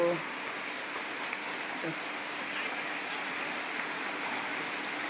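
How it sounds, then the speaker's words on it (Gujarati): Continuous heavy rain hiss at a steady level, a soft, even wash of water with no distinct drops standing out. "વરસાદ અંદરા ધાર વરસે છે મિત્રો"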